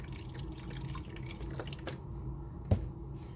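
Liquid pours and trickles softly into a pan of chicken tetrazzini gravy, a faint close wet patter with a single sharp clink near the end.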